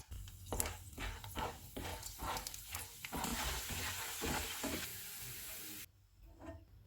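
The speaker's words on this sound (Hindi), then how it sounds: "जो बाकी की गोंद है उसे भी फ्राई कर लेंगे।" Edible gum (gond) fries in a pan on low to medium heat, a close, dense sizzle and crackle broken by rhythmic stirring scrapes, cutting off abruptly near the end.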